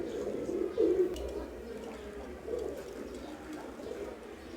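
Teddy pigeons at a pigeon market in Khulna give soft, low cooing calls, with one clearer coo standing out against a faint, busy background.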